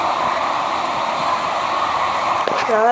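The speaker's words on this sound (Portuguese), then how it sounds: "quer dizer, é meu ventilador, viu?" A household electric fan runs steadily up close, a constant whooshing hum that fills the space, with a brief faint tonal sound near the end.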